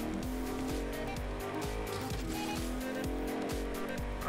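A car in the video game Agents of Mayhem drives hard with a steady engine drone and repeated tire squeals, loud and continuous without talk.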